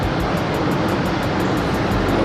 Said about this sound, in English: It's a garden tractor, bro. That thing's about to give up the ghost.